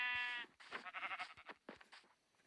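Sheep bleating in Minecraft: one long, clear harmonic bleat up front, then a string of shorter, choppier bleats and blocky game sounds that fade out by the end.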